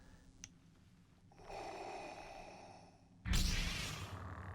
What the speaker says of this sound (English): You hear the breathing, you know that's Vader.